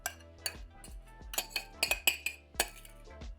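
Sugared cherries spread across a parchment-lined metal sheet pan with a utensil, giving close, sharp clinks and scrapes in an irregular rhythm over a quiet background.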